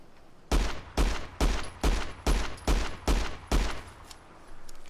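Eight heavy M1911 pistol shots from a Fallout 4 mod, fired one at a time at a steady, roughly half-second rhythm, each a loud, deep, punchy crack with a short decaying tail, followed by a faint low rumble.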